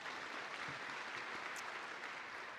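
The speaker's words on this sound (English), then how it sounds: "Please give him another warm round of applause" Faint, steady audience applause at a deep tech summit opening, a continuous wash of distant clapping with no breaks.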